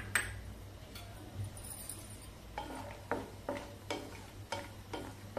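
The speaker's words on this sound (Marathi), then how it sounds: "आधी आपण काजू तुपामध्ये तळून घेऊया" Cashews frying in hot ghee over medium heat for dinkache ladoo, a faint sizzle under repeated clinking stirs of a spoon against the pan in a loose rhythm.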